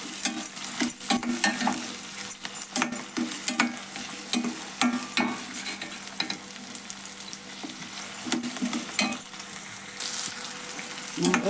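Chopped ingredients fry in hot oil in a pan for a cumin-tomato upma with field beans, a dense close sizzle broken by repeated scraping stirs of a utensil against the pan.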